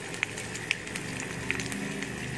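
Garlic and cumin seeds fry in hot oil for daal, giving a steady, close sizzle with a few faint crackles and pops and no talking.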